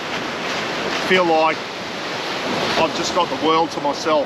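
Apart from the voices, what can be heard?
ocean waves crashing on the beach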